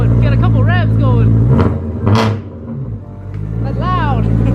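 A BMW E90 with a straight-pipe X-pipe exhaust revs loudly up close, the engine note rising and falling through a couple of sharp blips over a steady rumble, with people's voices mixed in.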